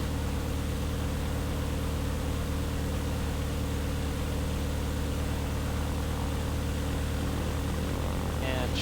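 A seaplane's geared engine being run up to 3,900 RPM: a loud, steady, unbroken drone that holds at high power throughout with no talking.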